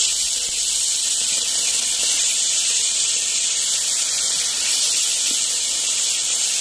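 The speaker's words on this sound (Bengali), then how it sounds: "একটু বেশি করে হলুদ দিয়ে একটু লবণ দিয়ে আমরা কই মাছটা বসিয়ে দেব" Koi fish seasoned with turmeric and salt sizzle in hot oil on a clay stove, giving a continuous bright hissing fry that stays loud and even throughout.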